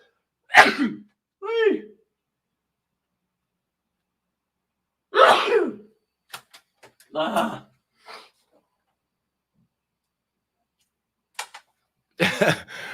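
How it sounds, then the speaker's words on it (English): A sneeze bursts out near the mic, followed by scattered short vocal sounds and sniffs with silent gaps, then another sharp burst at the end. "Hold on, I got to sneeze."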